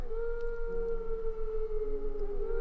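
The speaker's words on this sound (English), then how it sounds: "Oh, and I hear howling." Long, sustained howls rise and hold in a video game, several overlapping wolf-like tones sounding steady and eerie with no talk over them.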